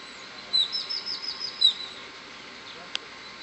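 Small birds chirp in quick, high twittering bursts for about a second and a half, fairly close, over a quiet outdoor background at Bacalar near Chetumal, with a single sharp click afterward.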